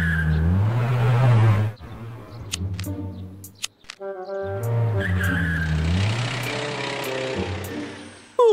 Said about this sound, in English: here comes the car.